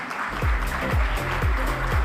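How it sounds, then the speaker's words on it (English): An audience at the Fortune India Most Powerful Women Awards claps to welcome the Minister of Minority Affairs, steady close applause lasting about two seconds, with a low rhythmic thumping beat underneath and no talk. "can we have a round of applause to also welcome?"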